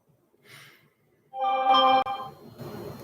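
A mobile phone rings close by indoors in a short burst of bright, tonal ringtone notes. A brief faint chirp comes just before it and some low noise follows after, with no talk over the ringing.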